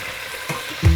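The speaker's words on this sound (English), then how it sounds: "as soon as the oil's hot, we can add in the meat and we're just going to brown it." Meat sizzles and fries in hot oil in a pan for a green chile stew, a close, crackling hiss that swells into a louder burst of sizzling near the end.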